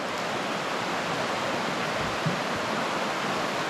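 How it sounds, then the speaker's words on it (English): River water rushes under a stone bridge in winter, a loud steady roaring wash of broad noise close by, with a faint knock of rocks shifting in the current. "I love the sound of rocks being moved by the water"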